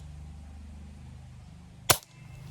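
A single sharp shot from a Hatsan 25 air pistol firing caps, close and loud, against a quiet background.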